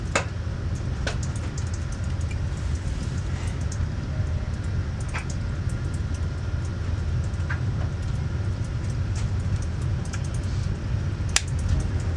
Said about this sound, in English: The train is going choo-choo.